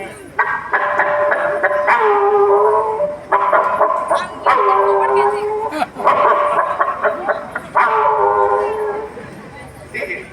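A voice imitates a mad dog's frenzied howling and barking in long, repeated wailing bursts, loud and close, with short pauses between calls, during a Yakshagana comedy performance.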